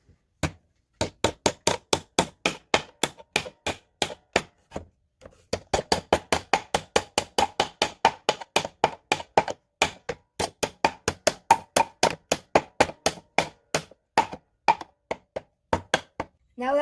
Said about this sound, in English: now we need to hammer them the rest of the way in